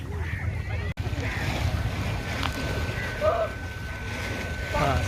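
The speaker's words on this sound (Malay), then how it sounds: "kalau kita camping dekat pantai ni sangat berangin" Strong wind buffets the microphone in a constant low rumble at a beach campsite, with faint surf and a few distant voices underneath.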